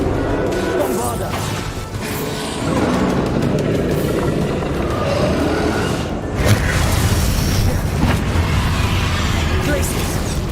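A Bombarda blasting spell going off in the wizarding game Hogwarts Legacy, a heavy booming burst over ongoing combat rumble and clatter, with voices in the mix.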